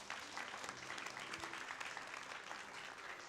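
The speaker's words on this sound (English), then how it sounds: "give yourselves another big round of applause" A crowd at a seed homecoming handover ceremony gives a sustained, even round of applause, dense clapping filling the whole stretch at low overall level.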